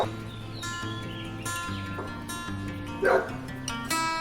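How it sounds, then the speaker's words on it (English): A dog barks and yips outdoors in a few short bursts, moderately close, with birds calling in the background and an insect-like hum throughout. "I went out there and the dog was barking"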